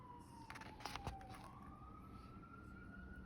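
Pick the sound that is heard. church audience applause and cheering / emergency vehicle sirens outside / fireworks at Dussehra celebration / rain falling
emergency vehicle sirens outside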